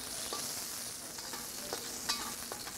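Ginger and garlic slices sizzle in hot oil for moo goo gai pan, a steady, fairly loud hiss with a few light stirring clicks, no voices.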